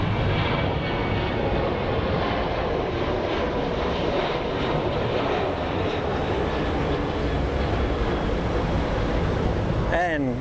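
Steady roar of an American Airlines airliner at Phoenix Sky Harbor airport, a broad continuous jet rumble that stays loud throughout with a brief rising whine near the end.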